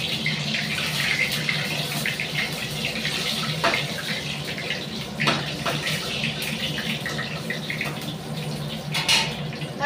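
Hot oil crackling and spitting where wet chopped vegetables go in, a dense, loud, continuous sputter with a few sharper pops standing out.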